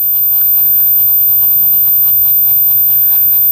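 A paintbrush scrubs paint onto a painted bunny banner in steady, close, continuous strokes, a dry rubbing texture with no voices.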